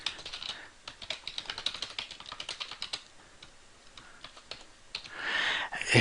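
Rapid, uneven keystrokes on a computer keyboard while entering text into a socket client program, close and clear for several seconds, pausing briefly before a louder rustle or hiss near the end; no talking.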